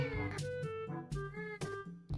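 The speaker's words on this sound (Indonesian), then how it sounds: "ada suara kucing" A cat meows several times in a row, short rising and falling cries close by, fairly faint overall.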